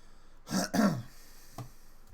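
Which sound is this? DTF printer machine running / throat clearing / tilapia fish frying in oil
throat clearing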